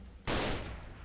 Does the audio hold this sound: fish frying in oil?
no